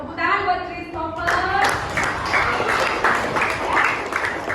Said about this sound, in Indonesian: Tepuk tangan buat Christopher